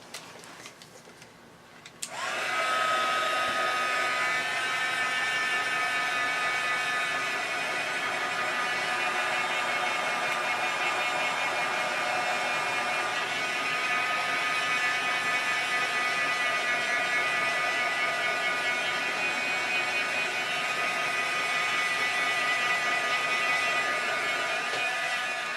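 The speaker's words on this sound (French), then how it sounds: "Je vais faire sécher encore une fois." After a short quiet moment, a heat tool switches on and blows steadily for over twenty seconds, drying ink on a stenciled paper tag with a constant close whir and hiss.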